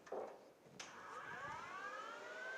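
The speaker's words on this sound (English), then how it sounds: "what you're hearing there is his electric fans" Electric radiator cooling fans on a 1959-60 Impala, wired through a relay, click on and spin up with a faint whine that rises steadily in pitch.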